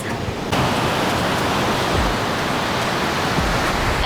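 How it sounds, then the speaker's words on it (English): Ocean waves at Kuta Beach, Bali, wash in as a loud, continuous broadband rush with gentle surges, steady and close, without clear talk. "listening to the waves"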